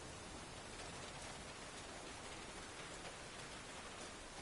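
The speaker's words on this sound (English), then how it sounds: "it's raining out" Rain in The Division 2 falls as a soft, steady broadband hiss, faint and unbroken, with no other sounds over it.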